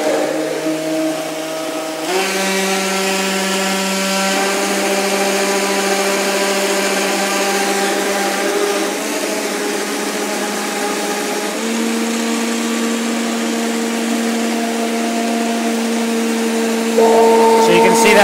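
A blender roars continuously at high speed while making a smoothie, a loud steady motor whine that shifts pitch a few times as the load changes and climbs slightly at the end, with no voices.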